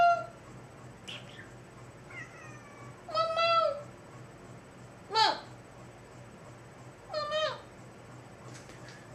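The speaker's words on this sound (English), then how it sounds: "Oh, little kitty." A small cat meows repeatedly indoors, several distinct mews spaced a second or two apart over a steady background hum.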